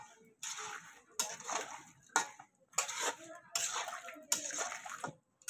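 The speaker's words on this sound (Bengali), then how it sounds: "এখন আমি এটা নাড়াচাড়া করব।" Mango pieces being stirred in a pan for homemade mango pickle make five or six separate clattering, scraping strokes, each a short burst with near silence between, at a fairly quiet level.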